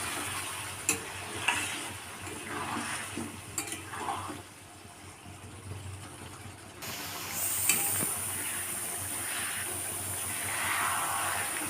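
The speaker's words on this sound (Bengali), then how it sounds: "এরপর এটা আমি আরেকবার খুন্তি দিয়ে ভালো করে নাড়াচাড়া করে দিই" A spatula stirs and scrapes Bombay duck fish cooking in a pan with its released water, making steady soft scraping and wet sizzling. Brief clinks and louder strokes occasionally break the continuous hiss.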